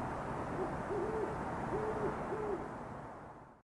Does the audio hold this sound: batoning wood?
no